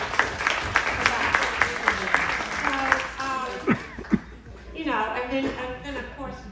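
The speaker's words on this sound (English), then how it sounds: "Give yourself a round of applause for that," An audience at a Mary Kay event gives a short round of applause, scattered claps under someone speaking, fading as a crowd murmurs and chuckles.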